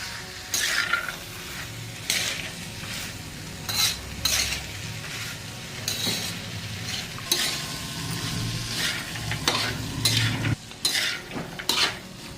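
Chickpea curry (harbhara usal) cooks on low gas while a spoon stirs and scrapes against the pot in repeated close strokes, with a gentle sizzle underneath and occasional metallic clinks.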